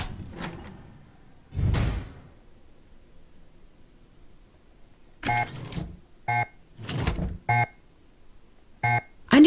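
Hidden door in a Nancy Drew game slides open with a heavy grinding whoosh early on, followed later by a series of short clicks and beeps like a keypad being pressed.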